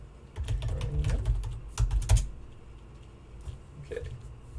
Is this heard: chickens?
no